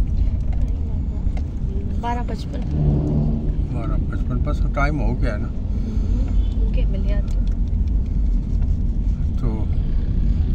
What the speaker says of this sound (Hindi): मैं यहाँ गाड़ी खड़ी करता हूँ